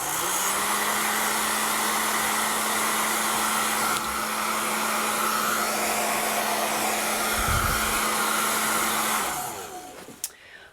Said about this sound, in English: I'm gonna hit this with my hair dryer